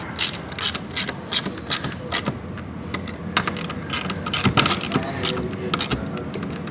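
A ratchet with a 7mm socket tightens bolts on a 2022-2026 Cadillac CT4-V Blackwing, giving rapid, close clicking bursts in irregular strokes.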